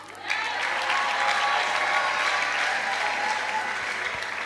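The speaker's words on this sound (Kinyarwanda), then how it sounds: "Bamwe bakoma amashyi barakaye" An audience in a church gathering claps in sustained, dense applause for several seconds, steady and fairly loud, with no clear voices on top.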